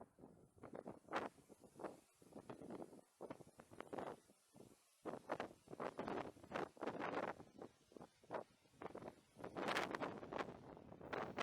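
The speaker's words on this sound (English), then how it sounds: "And that wind was really awkward." Wind gusts buffet an outdoor fishing pool at Weston Pools during a match, producing irregular rumbling bursts of wind noise against the microphone. The sound is faint overall but continuous, with no speech.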